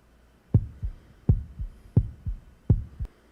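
Pounding heartbeat effect: four evenly spaced lub-dub double thumps, deep and close, with a steady rhythm and nothing else around them.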